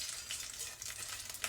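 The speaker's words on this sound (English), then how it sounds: "You hear that sizzle?" Blueberry pancake frying in a pan gives a steady close sizzle, a soft crackling hiss that carries on through the whole short stretch with no voices over it.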